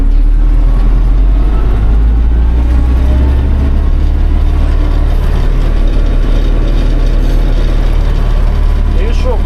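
An MTZ 1025.2 tractor pulling a Hermes 2.7 disc harrow through a soybean field drones loudly and steadily up close as it pulls away in third gear with front-wheel drive engaged, while someone speaks over the engine.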